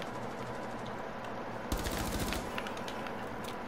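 Rapid automatic gunfire in the video game Rainbow Six Siege, a short, dense burst of shots starting abruptly partway through, fairly faint over a steady game background.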